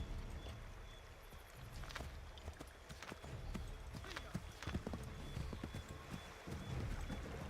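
Horse hooves clip-clop at a steady walking pace in Assassin's Creed 3, with irregular moderately loud strikes over a rustling outdoor ambience.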